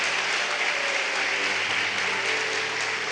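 A church congregation applauding during a sermon, a steady, dense roar of clapping that holds evenly at a fairly loud level, with no voice clearly standing out.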